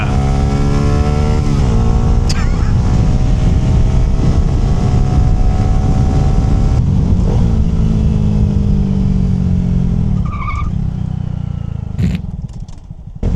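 Honda Grom motorcycle engine pulling hard on an autumn road in Ohio, a loud, close buzzing exhaust climbing in pitch through the gears, then easing off as the revs drop.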